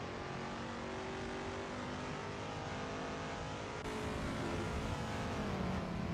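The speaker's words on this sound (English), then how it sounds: "Robin Moe has certainly updated his engine by the sound of it as he goes on his first outlap" A race car engine on an outlap at Cadwell Park in a racing video game roars loud and continuous, with a dense, rough drone that grows slightly stronger partway through, no voices over it.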